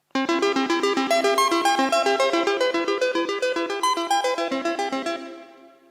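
A bright synthesizer arpeggio cycles in rapid, even notes, each trailing into a long reverberant wash that rings out after the final note.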